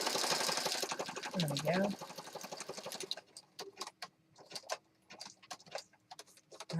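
A sewing machine stitches along a journal page in rapid, even bursts of ticking mechanical clatter, starting and stopping in short runs; someone speaks briefly over the close, moderately loud stitching.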